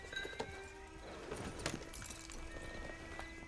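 Horse hooves clip-clopping in Red Dead Redemption 2, a few quiet irregular hoof knocks with soft game ambience and faint tonal music underneath, no talk.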